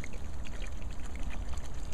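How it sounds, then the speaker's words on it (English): Water poured into a bowl for cooking beans over a fire, a continuous close gurgling and splashing pour that runs steadily throughout with no pauses. "Put a little bit of water in there."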